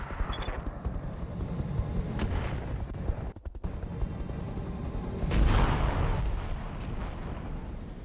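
Cluster bombs fall in the mech combat game RogueTech, producing a dense barrage of rumbling blasts and crackling detonations with a brief lull before a louder surge of explosions.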